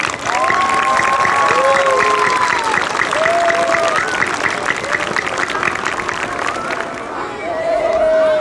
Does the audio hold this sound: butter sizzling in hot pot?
no